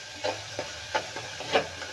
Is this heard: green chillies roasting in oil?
yes